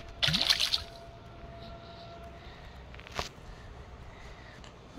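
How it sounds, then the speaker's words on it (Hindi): Water pours in as a container is filled in the Granny 3 horror game: a short, loud splashing burst with a rising tone right at the start, then quiet room tone and one brief thud later. "मैंने पानी भरा है"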